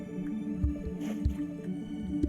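Underwater kelp harvesting in Minecraft produces soft squishy pops and drips, a few irregular wet clicks over a murky, bubbling ambience with no voices.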